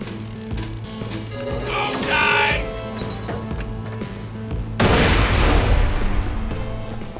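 Chaotic combat in the video game Borderlands 2, with dense gunfire, booms and a large explosion blasting in near the end amid game effects.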